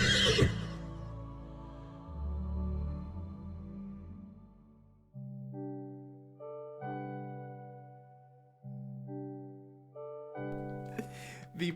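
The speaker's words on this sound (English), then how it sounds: "The Pope riding on the papal horse across the streets of Vatican City" A horse whinnies loudly in a video game, then a series of drawn-out musical neigh calls repeat, ending in a burst of clattering noise.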